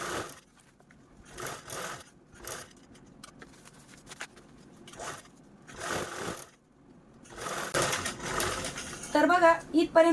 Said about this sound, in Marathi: जशी मार्किंग केली तिथूनच आपल्याला झीप जोडायला सुरुवात करायची आहे तर चला आपण लगेचच जोडून पण घेऊया मग अशा पद्धतीने झिट ठेवली आणि राईट साईडने स्टिच करून घेतोय